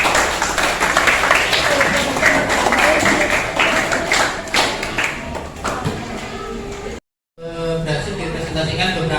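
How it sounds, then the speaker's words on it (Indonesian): A classroom crowd claps in a dense, steady burst with voices mixed in, then the clapping stops abruptly and a murmur of talk carries on. "Boleh tepuk tangan untuk nomor 2"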